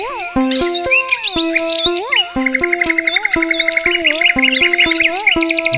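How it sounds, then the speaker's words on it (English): Small songbirds such as sparrows chirp and twitter in quick, bright bursts throughout, layered over a steady stepped melodic tone line, with no talking. "Birds singing even like the sparrow."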